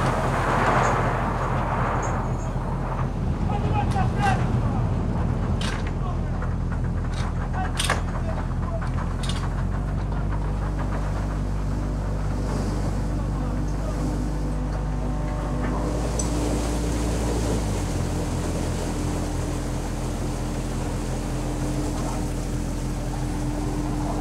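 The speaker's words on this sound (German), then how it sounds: "Das Schiff arbeitet Tag und Nacht." The engine of a fishing trawler at sea off the Faroe Islands hums steadily and deeply, with scattered metallic clanks and mechanical rattles over a constant low rumble.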